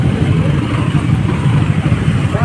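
A lady rider's motorcycle, seen on a Cebu loop endurance ride, idles with a steady low engine rumble and mild throb, fairly close and constant, and a little background noise sits underneath.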